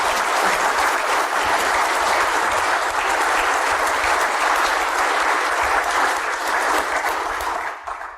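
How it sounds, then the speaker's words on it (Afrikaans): Loud, sustained audience hand clapping at an opening-night gathering, a thick continuous roar of claps that holds steady before tailing off at the very end. "Kom ons gee vir elkeen van hierdie mense wat hier teenwoordig is lekker hande klap."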